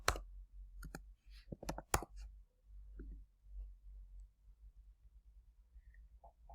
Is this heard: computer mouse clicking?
yes